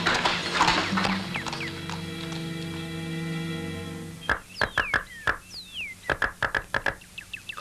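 Horse hooves in an animated film clip-clop in a quick, uneven run of sharp knocks, close and clear after a stretch of musical score, with a faint whinny-like tone between the steps.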